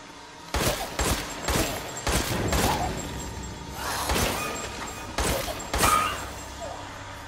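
Gunfire in the survival horror game Resident Evil Village sounds as a series of sharp, fairly close shots with short echoing tails, coming in quick clusters with brief pauses between them.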